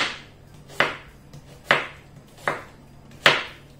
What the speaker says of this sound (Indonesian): Berikutnya kita cincang atau chop bawang bombay.